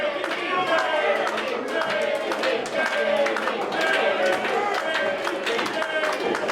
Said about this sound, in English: Mixed crowd reactions here.